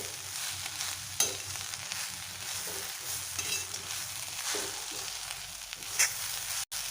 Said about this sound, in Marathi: भाजी हलवून घेऊया थोडीशी अधूनमधून हलवत राहायची म्हणजे भाजी खाली लागत नाही